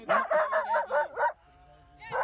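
A dog barks in a quick run of about half a dozen sharp, yappy barks, then pauses before one more burst; people talk nearby.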